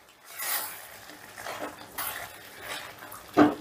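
Chilli fish being stirred in a pan over a low gas flame, with a few separate scraping and clinking strokes of a utensil against the pan and a sharper knock near the end, heard alone at close range.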